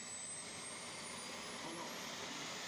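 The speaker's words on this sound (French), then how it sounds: "La turbine est en pleine puissance. Ah, le bruit est très caractéristique." A turbine-powered bicycle runs at full power, giving a continuous jet-like roar with a thin, rising high whine, steady and unbroken throughout.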